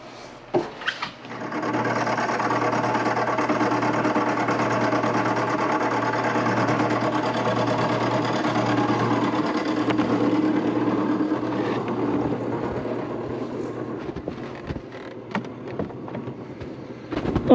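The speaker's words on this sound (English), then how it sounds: "so we've got some work going on the lathe" A wood lathe runs for dowel turning with a steady, even mechanical hum and a low drone that holds throughout, with a few knocks at the start and end.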